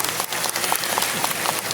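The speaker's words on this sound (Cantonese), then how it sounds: "如果有，俾多啲掌聲我聽下，好唔好啊？" A theatre audience at a memorial event applauds steadily, a dense, continuous wash of many hands clapping throughout.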